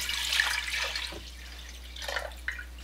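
Water poured into a pot for boiling pickle brine, a steady splashing stream loudest in the first second, thinning out, then brief splashes again near the end, close by with no talking.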